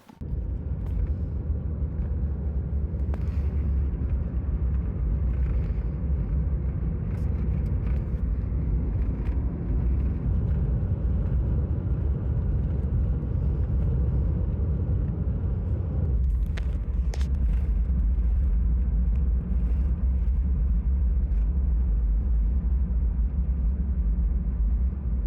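A car driving to the vet with a pregnant dog aboard, its engine and road rumble steady and loud from inside the cabin, with a brief bump or shift partway through.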